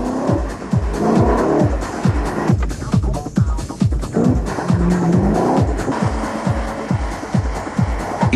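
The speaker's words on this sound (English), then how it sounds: "The sheer engine power of the 5-liter V8 makes it tricky to control." A Hartge H50 with a 5-liter V8 is driven hard through a pylon course, its engine roaring loudly and continuously while tires squeal and skid through the turns, with repeated rapid gearshift-like pulses throughout.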